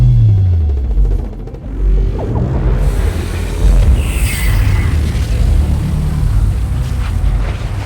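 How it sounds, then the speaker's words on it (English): A film explosion of a starship engine core from Captain Marvel, bursting into a loud, deep sustained rumble with booming low-end swells that roll on through the full length without letup. "The sudden explosion then unleashed a massive outburst of Tesseract energy"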